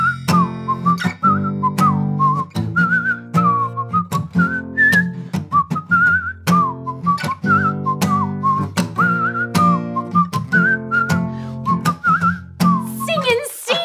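A melodic tune whistled in steady phrases over a backing of music, clear and close throughout.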